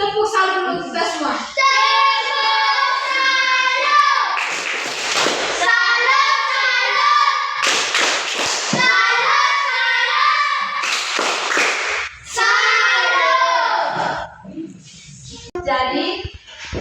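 Schoolchildren in a classroom chant the rhythmic tepuk salam greeting together in loud unison, marking the beat with bursts of hand claps and pausing briefly between phrases.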